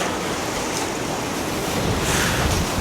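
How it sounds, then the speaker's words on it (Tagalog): Strong, roaring wind from a Southern California wind storm blowing steadily, a dense wash of noise that swells slightly toward the end, loud and close. "Grabe yung lakas ng hangin."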